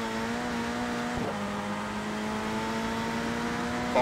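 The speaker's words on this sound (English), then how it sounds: "I think the engine noises could have been a little bit beefier" A rally car engine in Rush Rally 3 drones at a steady, mid-volume hum with even tonal harmonics, briefly dipping around a gear change before settling back, then lifting slightly at the very end, with no voices over it.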